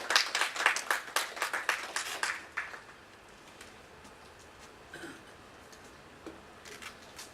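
Warm applause from an audience welcoming a guest onto the stage at a seminar, a dense burst of clapping for about two and a half seconds that stops abruptly, leaving faint room noise with a few scattered claps.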